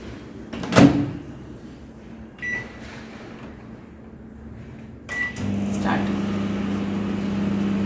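A microwave oven heating masala tea hums steadily, with a door or latch clunk near the start and another around five seconds, after which the motor drone grows louder and continues.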